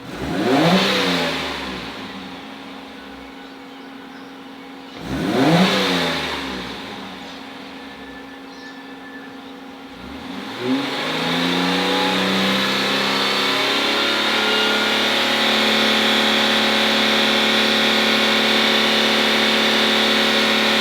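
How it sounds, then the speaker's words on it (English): A Ford AU car engine is revved twice in quick blips, then climbs and holds a steady high rev around 4,500 RPM, close and loud with no talking. "Let's give it a bit of a rev, eh?"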